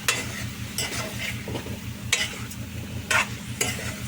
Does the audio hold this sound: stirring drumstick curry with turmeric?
yes